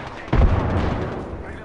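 A frag grenade detonates in a shooter video game, one sudden loud blast followed by a rumbling decay that fades over about a second.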